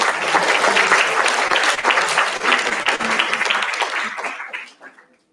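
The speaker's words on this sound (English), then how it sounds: "give the applause for our both panelists" An audience at the IYSCA 2016 conference gives a burst of loud, dense applause for the panelists, sustained for several seconds before tapering off and fading out.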